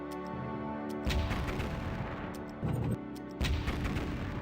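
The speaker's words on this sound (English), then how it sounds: "Everyone knows that is the sound of the beach ball gun." Beach ball gun firing in the 1999 video game Warhammer 40k: Rites of War, several deep booming shots at irregular intervals over a continuous game soundtrack, heard alone without speech.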